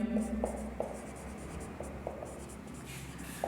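Pen strokes mark notes on paper during an accounting lesson, producing faint, soft scratching with small taps at irregular intervals, close but quiet, with a voice in the background.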